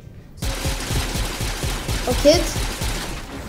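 Rapid automatic gunfire in Fortnite during its Star Wars update rattles off in a quick, even stream of shots, with a player briefly speaking over it.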